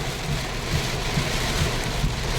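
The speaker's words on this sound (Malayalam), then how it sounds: "മഴ നല്ലോണം കൂടിട്ടോ" Heavy rain pours down steadily in the UAE during record rainfall, a dense, loud hiss drumming on surfaces with no break.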